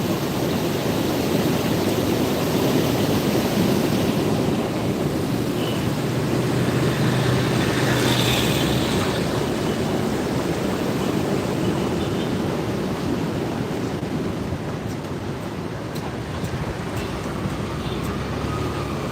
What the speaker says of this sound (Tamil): மோர்தனா டேம் நிரம்பி வழியிறதுனால இப்போ நம்ம குடியாத்தானத்தில் தண்ணி போயிட்டுருக்குது